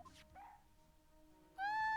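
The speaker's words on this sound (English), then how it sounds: "He's a canine police dog still in training." A police dog in training in the video game Phoenix Wright: Ace Attorney gives a short whimper, then a rising high-pitched yip, clear and close with no one talking.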